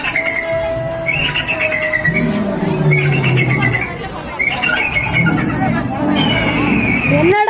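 An eagle calls at a jungle-themed animal show in Coimbatore, giving repeated shrill whistling cries over a busy indoor crowd. Children's voices and other chatter run loudly underneath throughout.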